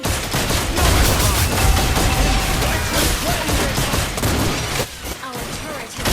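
A turret being destroyed amid a video game battle, with continuous loud gunfire, crashes and explosive bursts filling the whole stretch, and in-game announcer voices mixed under the chaos.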